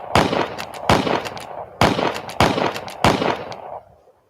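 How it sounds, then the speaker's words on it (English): Five sharp gunshot effects fire in a loose sequence, each a loud crack with a decaying tail, spaced roughly a second apart on a podcast, with nothing else heard. "Get ready to bust some gunshots for this one"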